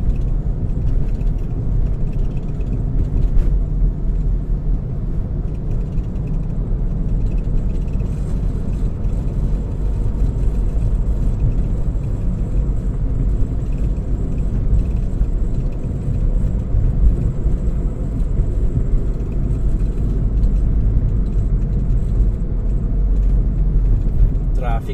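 Steady road traffic on EDSA in Caloocan, a continuous low rumble of car and vehicle engines that stays even and close throughout, with people talking over it.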